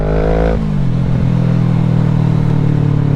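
A motorcycle revs hard and accelerates for a wheelie, loud and close. The engine tone climbs, then drops as it shifts into a sustained, throaty drone.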